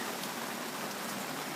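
Steady rain falls outdoors, a soft continuous hiss of drops heard alone, fairly faint and even throughout.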